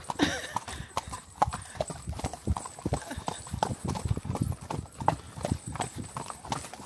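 Pony hooves clip-clop steadily and close by at a brisk rhythm, with a horse whinnying faintly and some background voices.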